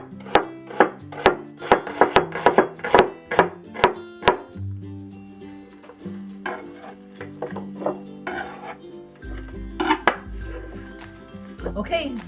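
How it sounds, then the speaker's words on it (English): A knife slices shallots on a cutting board with a quick run of crisp, rhythmic chops, then slower, scattered cuts and scraping against the board, close up. "We'll cut it into like 1/4-inch slices."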